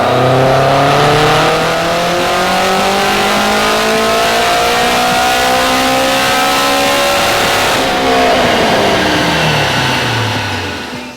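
A Honda race car engine running on E85 revs hard through a dyno pull, loud and close, its pitch sweeping up steadily before dropping and winding down near the end; no one speaks.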